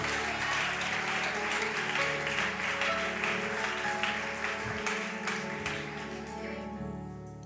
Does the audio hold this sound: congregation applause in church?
yes